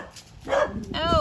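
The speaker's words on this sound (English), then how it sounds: "that's my dog Lucky." Lucky the dog gives a short, close, loud bark with a tonal, yelping edge. The bark overlaps a person's brief spoken word.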